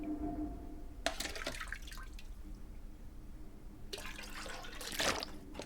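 Water is taken from a toilet in the survival game The Long Dark, two short bursts of splashing and trickling liquid separated by a quiet pause, faint and close.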